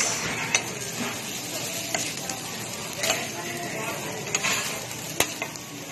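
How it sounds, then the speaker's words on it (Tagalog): Kimchi fried rice with condiments being stirred in a pan, a steady sizzle and scraping under repeated sharp utensil clinks against the metal, close and moderately loud with no talk. "halo dito, halo doon, halo-halo at halo lang ng halo para siyempre mag-mix lumasa ang nilagay na condiments"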